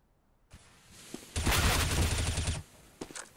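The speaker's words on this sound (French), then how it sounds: "Relic qui va tomber sous les balles de Colzera" Automatic rifle fire in Counter-Strike on the Mirage map: a single crack, then a loud sustained burst of rapid shots lasting about a second, followed by a few scattered shots.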